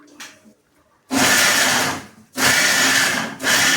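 A kitchen mixer grinder chops grated coconut in three loud, close bursts. The roaring whir stops briefly between pulses, and the first burst follows a quiet moment with a small clink.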